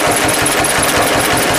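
A John Deere BW tractor engine running steadily just after the starter has cranked, a loud, close, rapid rhythmic chugging throughout, no voices.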